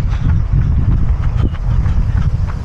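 Wind buffeting a microphone as a runner jogs into a headwind, a steady low rumbling roar filling the whole stretch with no talking.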